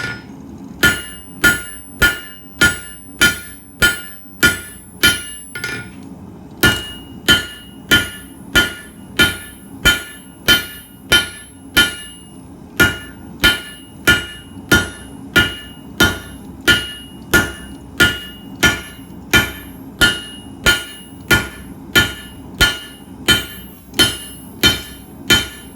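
A hot piece of H-13 tool steel is struck on an anvil at a forge, with a long run of loud, evenly paced ringing hammer blows and a short pause partway through.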